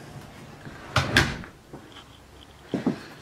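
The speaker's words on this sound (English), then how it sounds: "And let me close the door." Front entry door of a small tiny house being closed: a couple of close wooden knocks and a latching thump, followed by a second softer pair of clunks, in a quiet room.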